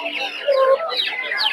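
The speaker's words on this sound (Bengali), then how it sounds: "এগুলো দেখতে পাচ্ছেন ব্রাহ্মা মুরগি।" Brahma chickens at a winter-morning poultry market in Putia, Narsingdi, give a quick run of close, clear clucks and chattering calls lasting just over a second.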